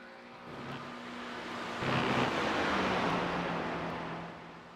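A GT3 race car on the Spa circuit in a sim racing game swells into a loud engine roar as it passes, then fades into a long, smooth whoosh.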